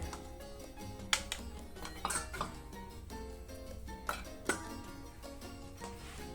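Chili is pounded in a mortar and pestle for a Thai seafood dipping sauce, giving a few irregular, sharp knocks and thuds spaced out over a quiet background with a soft tonal hum.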